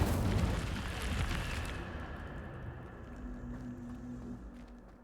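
An Incendio fire spell in Hogwarts Legacy erupts in one loud, rushing fiery burst that slowly fades into a low, rumbling tail.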